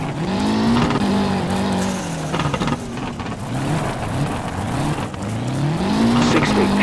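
Renault 5 GT Turbo rally car in the WRC Rally game at the Rally of Greece, engine revving hard through a handbrake hairpin with tire squeal and skidding, loud and close, rising again as it accelerates out.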